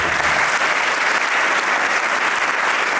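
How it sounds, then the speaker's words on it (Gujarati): Loud, steady audience applause from a crowd at a Surat Gurukul dayro (folk storytelling and comedy gathering), sustained clapping filling the whole stretch without pause. "એ વિચારને પણ એકવાર જોરદાર તાળીઓ"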